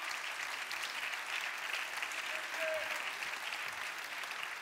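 Steady applause from a festival audience for a singer, a dense, even clapping that carries on unbroken throughout, fairly faint and heard at a distance.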